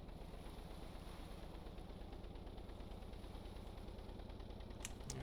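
Modular engine in the Stormworks game running with a steady, dense low drone and regular pulsing beat, holding constant throughout with a brief higher blip near the end.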